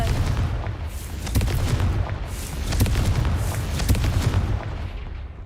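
Confringo fire spell from Hogwarts Legacy bursting in a run of heavy booming explosions, loud and repeated over a rumbling low roar, with no speech.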